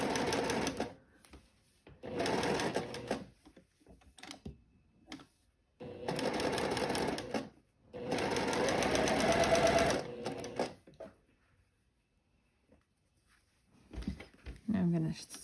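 Sewing machine stitching a waistband ruffle for a floral sundress with a half-inch seam allowance, running in several bursts of steady rapid whirring separated by short pauses, close and fairly loud.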